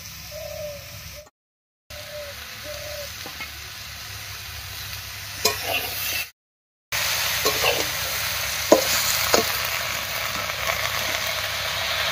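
Mixed vegetables with Malabar spinach stems and leaves fry in a pan, giving a soft, steady sizzle broken by a few stirring scrapes and clatters. Pigeons coo faintly in the background.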